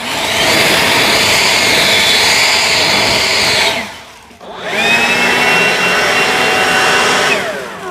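Two battery leaf blowers, an EGO LB7650 and a DEWALT DCBL722B, roar in a loud, steady whoosh, cut out briefly and ramp back up, with the airy whine running close by and no talk.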